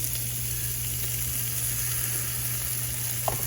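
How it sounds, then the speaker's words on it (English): Onion and garlic sizzle in a pan with a steady, even frying hiss and a low hum beneath, plus one brief tap near the end. "We need to cook the onion with garlic. So I'm gonna add the garlic right now."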